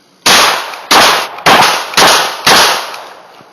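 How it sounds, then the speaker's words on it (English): Five loud, sharp gunshots fired at a dented target, evenly spaced about half a second apart, each a close crack with a short ringing tail and no voices between. "I just really want to shoot this thing right now"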